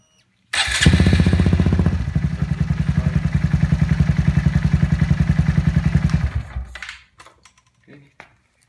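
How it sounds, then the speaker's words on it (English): A Honda Grom motorcycle fitted with the stock stator starts up and idles with a rapid, steady putter, loud and close, before cutting off and falling quiet with a few faint clicks. "Turn on the bike."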